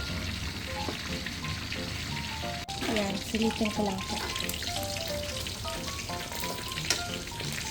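Steady crackling sizzle of pork belly frying in hot oil for lechon kawali, with occasional pops, while a person talks briefly over it.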